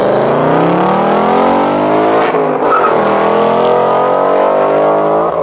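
A 2018 Ford Mustang GT with its 5.0-litre V8 roars loudly and steadily as it drives, the engine note climbing through gears with a brief dip mid-pass, sustained and close throughout.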